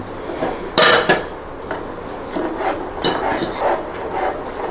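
Spoon scraping and clattering against a pan while stirring sugar into mango pulp for mango tandra over a low flame, with a sharp loud knock near the start and softer intermittent scrapes and rubs, no talking.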